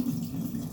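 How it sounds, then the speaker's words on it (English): Liquid from fermenting tomato seeds is poured off the top of a container, a brief steady watery pour, close and moderately loud, with no one speaking. "we're gonna pour off the top liquid on here."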